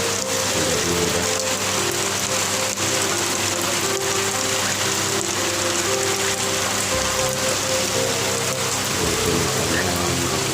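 Steady heavy rain falls beside an outdoor koi fish pond, a dense continuous hiss of drops pattering on surfaces, loud and close with no pauses and no voices.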